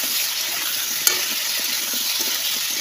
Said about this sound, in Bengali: এটা একটু ভাজা ভাজা হোক, তারপরে আমি মশলাগুলো দেবো, ভাজা ভাজা হোক।